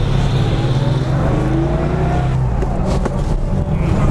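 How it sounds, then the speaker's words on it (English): A 1970 Porsche 911 2.2 S flat-six warms up while driving, a loud steady engine drone heard from inside the car with slight shifts in pitch and continuous road rumble. "The car's just warming up nicely now."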